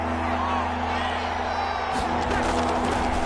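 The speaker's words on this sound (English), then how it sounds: "That just means this crowd's going to get even louder" A stadium crowd roars in a football video game, a loud, continuous wash of cheering that swells slightly toward the end.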